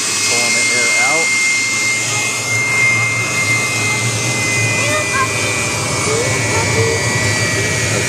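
The blower on an L.E.A.F. wood gasifier pulls air through the unit with a steady, loud whooshing drone that holds for the whole stretch, and a voice can be heard briefly over it.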